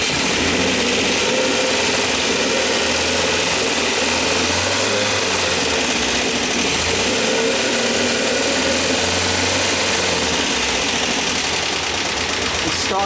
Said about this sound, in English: you can tell from the engine it's running lovely